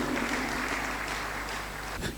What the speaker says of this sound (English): A round of applause once again for Our Excellency.